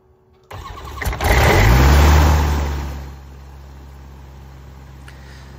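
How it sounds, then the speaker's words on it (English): A Sling TSi light aircraft engine cranks briefly, catches and roars up loudly, then settles into a steady, lower idle, heard close and alone. "we got the engine started and uh, everything is uh, seems to be running well"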